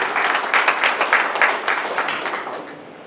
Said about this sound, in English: Give Jesus a clap of praise there